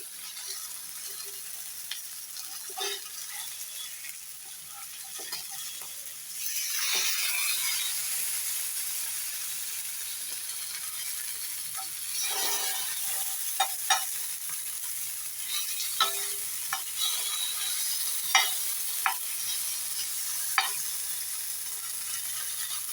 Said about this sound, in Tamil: இப்போ மீனை வந்து திருப்பி போட்டு வேக வைக்கலாம்.